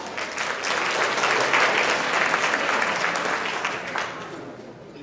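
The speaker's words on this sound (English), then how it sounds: "Give Paul a round of applause." A large audience at an awards banquet claps in sustained applause, a dense, steady wash of hands that swells and then gradually thins out toward the end.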